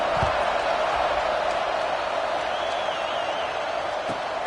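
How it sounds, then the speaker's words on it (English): Steady stadium crowd murmur from an American football video game, a dense continuous buzz of many voices at an even level with no distinct cheers standing out. "this crowd is buzzing after that last score."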